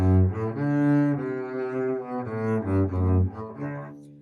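A double bass plays a slow passage of sustained bowed notes that shift in pitch, clear and close, with no talking.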